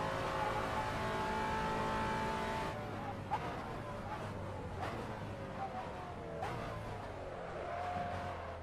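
Simulated race car engine in the Assetto Corsa video game, a steady drone broken by a few short throttle blips and shifts at moderate distance, without talk.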